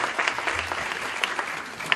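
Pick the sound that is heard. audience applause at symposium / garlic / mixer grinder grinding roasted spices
audience applause at symposium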